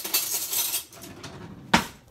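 A metal spoon clinks and scrapes against a dish while spreading apple fritter bread batter, with soft scraping early on and one sharp, close clink near the end.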